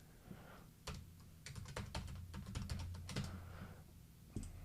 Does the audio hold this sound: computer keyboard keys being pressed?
yes